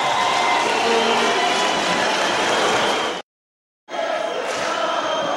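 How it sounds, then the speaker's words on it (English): A loud, steady roar of a ringside crowd at a minimum-weight boxing bout, dense continuous noise broken by a brief silent gap before resuming. "Unfortunately, we'll have to compete with this crowd."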